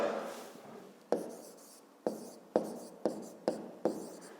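A pen writes out a math answer for a grade 5 exercise, a series of six or so quick tapping strokes with short scratchy tails, close and quiet, preceded by a soft rubbing scrawl, with no talking.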